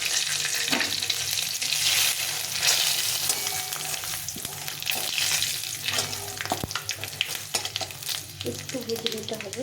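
Dried red chilli, bay leaf and five-spice crackling in hot oil, loud close sizzling with busy stirring and spatters, sustained without pause.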